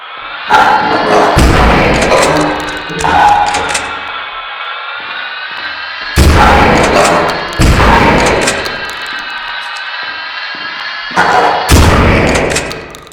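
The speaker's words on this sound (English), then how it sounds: "Well, that's the shotgun." Shotgun blasts from the horror game Lost in Vivo, several loud, heavy booms spaced a few seconds apart, each followed by a sustained ringing drone.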